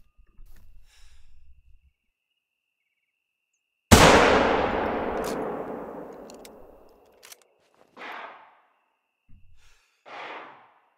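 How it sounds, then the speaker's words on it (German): One sharp, loud gunshot from the hunting video game theHunter: Call of the Wild, aimed as a lung shot, with a long echoing decay, followed by a few soft breaths. "Wir machen einfach einen sicheren Lungenschuss."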